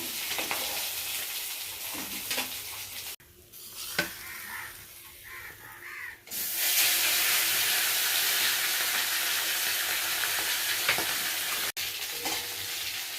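Fish head frying in hot oil in a kadai, with a steady sizzle that drops off briefly mid-way and then returns loud and dense, alongside a few stirring clinks.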